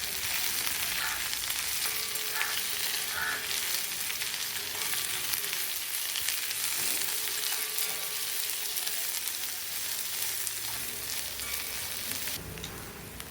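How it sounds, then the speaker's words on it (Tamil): Steady, continuous sizzling of curry leaves and chopped onion frying in hot oil, a dense hiss that holds at an even level throughout with faint clinks now and then. "கொஞ்சோண்டு கருவேப்பில் லேசாக ஃப்ரை பண்ணிக்கலாம்"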